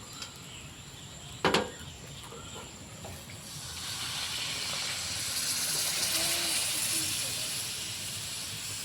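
Steam hisses as water is poured into a hot, mixed six-vegetable vegetarian curry with jackfruit seeds. A sharp splash comes first, then a broad, steady sizzle that builds and holds. There is no talking.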